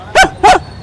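Two sharp, loud barks from a dog, close by and in quick succession, with no other sound around them.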